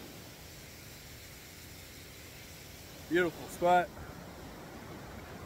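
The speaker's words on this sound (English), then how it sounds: "Beautiful flow on this falls too." Pine Island Double Falls in Daniel Boone National Forest pours with a steady, even rush of water throughout, while someone briefly speaks over it.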